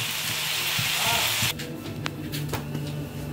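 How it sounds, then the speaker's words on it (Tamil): Onions sauté in a pan with a soft, steady sizzle that drops to a quieter crackle partway through, with a few light clicks and scrapes, fairly faint overall. "இது கொஞ்ச நேரம் நல்லா வதங்கட்டும்."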